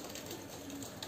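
Pigeons cooing at a pigeon farm, a soft, continuous murmur of several birds close by, steady throughout with no talking.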